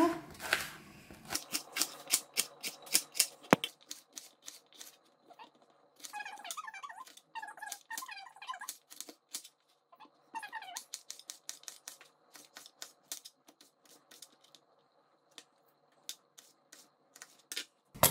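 A knife slices cooked pizza toppings into strips on a board, giving sharp, scattered taps and squeaky cuts in quick irregular bursts, close and fairly quiet.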